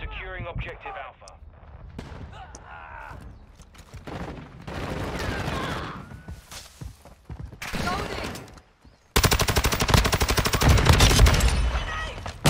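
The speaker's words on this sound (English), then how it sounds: "Every time I shoot at someone, I'm getting shot from my right side." Video game shooter gunfire with scattered shots, then a loud dense rapid volley near the end, amid radio chatter and a player talking over it.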